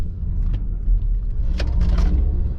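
Artificial drive sound of a Mercedes EQS 580 SUV accelerating, heard from inside the cabin as a loud, continuous low electronic hum that swells and rises toward the end, with no talking.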